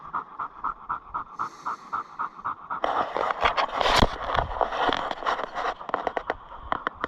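A butcher's dog, a slightly fat hunting dog back from the chase, pants hard and fast in a steady close rhythm, then a rougher, noisier burst of breathing and rustling covers the panting before it settles again.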